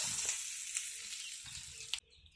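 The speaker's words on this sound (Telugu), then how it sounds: "ఇప్పుడు పచ్చడిలో తాలింపు వేసేసుకుందాం" Steady hissing sizzle of hot tempering oil poured into ginger chutney, crackling throughout with a few sharp pops, then dropping abruptly quieter near the end.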